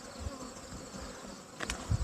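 Honey bees swarm around an open hive while a beekeeper lifts and checks frames, giving a steady close buzzing drone with a couple of brief louder bumps and no voices.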